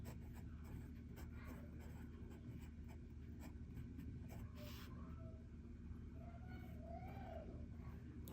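A fountain pen with a fine nib and Lamy Rhodonite ink writes on paper, producing faint, steady scratching strokes close by with no talking.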